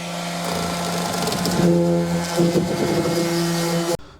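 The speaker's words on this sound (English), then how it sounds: "We're just gonna go ahead and sand it down a little bit, get those rough edges as flat as we can" A power sander grinds down the rough edges of a cut window opening in a van wall, giving a continuous droning motor buzz that shifts slightly in pitch and stops abruptly.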